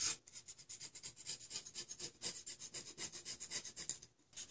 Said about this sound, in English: Just try and scrape off as much of that carbon and debris,